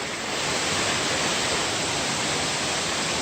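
A waterfall in North Carolina's Pisgah National Forest roars in a dense, unbroken wash right beside a trail hemmed in by mountain laurel and rhododendron, loud and close with no voices.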